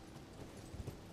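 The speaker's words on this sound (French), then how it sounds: "Non putain, tu vas trop vite le cheval des fois" A horse gallops in the video game Elden Ring, with faint, low hoofbeats in a quick, muffled rhythm under a steady background wash.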